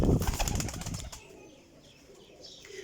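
A Sialkoti pigeon beats its wings close by in a loud rapid flutter of flaps that fades after about a second, leaving quiet background with faint bird sounds.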